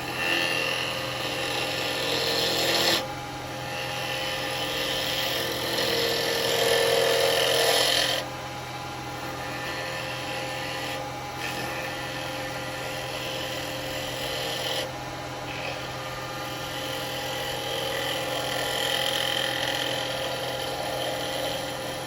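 Turning tool cutting wood on a lathe: a steady motor hum under rough, rasping cutting, loudest in one sustained pass, then lighter, intermittent scraping at moderate level.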